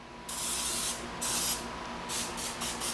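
Several short hissing bursts of cooking spray on a baking dish, one longer then quicker pulses, close and fairly quiet.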